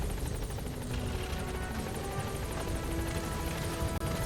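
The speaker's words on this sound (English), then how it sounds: "Support helicopter has arrived." Support helicopter arriving in the video game Metal Gear Solid V, a steady, loud rotor whir with rhythmic chopping running continuously throughout, with no talk over it.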